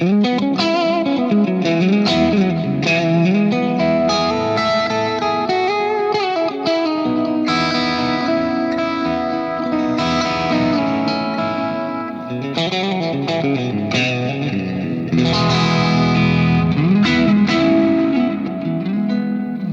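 A driven electric guitar through a Fender Tone Master Pro's Comic Sans drive overdrive plays a continuous melodic riff with crunchy distortion and some reverb, loud and sustained throughout.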